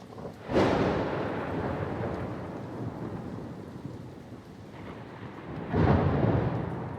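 A thunderstorm rolls through in the wild, two heavy thunder cracks opening and closing a long rumbling stretch, loud and close, with rain and wind hissing between the claps.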